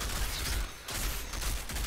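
Sustained gunfire in the Outriders video game, dense and continuous with a brief dip midway, no voices.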